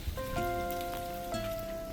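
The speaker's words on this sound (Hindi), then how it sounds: "काफ़ी वेट किया होटल में कि बारिश रुक जाएगी" Monsoon rain falls through forest at Matheran, a steady close patter with a few sustained tonal notes running through the two seconds.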